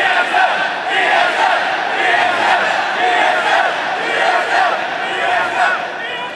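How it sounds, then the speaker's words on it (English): Large esports arena crowd at a League of Legends Worlds group stage roars and cheers for a pro player, a dense, sustained wall of shouting and applause at full volume throughout. "while you get a fantastic applause"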